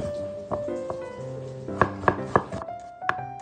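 Onion chopped by knife on a board for Filipino vegetable lumpia, several crisp close-up chops in an uneven run, loudest in a quick cluster midway, over a steady background hum.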